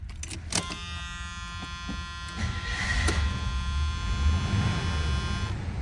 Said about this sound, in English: I'll grab the key and start this beauty up